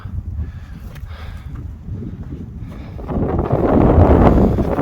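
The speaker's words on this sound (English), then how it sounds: "it's got pretty damn windy up here" Strong wind near the summit of Pico Birigoyo on La Palma buffets the microphone in low rumbling gusts, growing louder and rougher toward the end.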